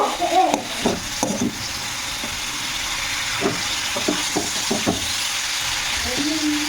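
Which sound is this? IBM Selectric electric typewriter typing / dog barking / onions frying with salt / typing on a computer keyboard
onions frying with salt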